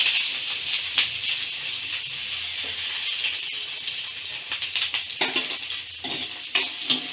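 Chopped onions with cumin seeds sautéing in a pan for paneer curry, giving a steady bright sizzle with scattered clinks and scrapes of a spoon stirring, busier toward the end.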